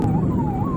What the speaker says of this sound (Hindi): हम एम्बुलेंस को पास दे रहे हैं